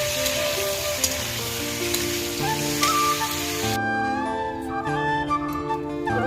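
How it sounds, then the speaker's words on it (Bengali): Pumpkin and vegetable stalks fry in a pan, giving a continuous close sizzle like light rain on a surface, fairly loud and steady, with tonal background hum and no talk. "কুমড়ো আর ডাঁটাটা বাকি ছিল, এটা ভাজতে বসিয়েছি। এটা হালকা করে ভেজে নেব।"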